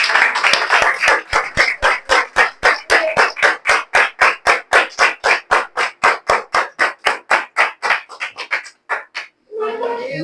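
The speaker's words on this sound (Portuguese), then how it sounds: "Quem recebeu, que as palmas louvem ao Senhor." A church congregation claps in unison during a Sunday service, with loud, evenly spaced rhythmic claps that speed up slightly, then trail off into a few scattered claps and a brief voice.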